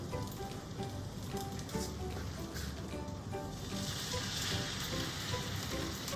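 French toast fries in butter in a pan, giving a steady, dense sizzle that carries on throughout and grows slightly brighter toward the end.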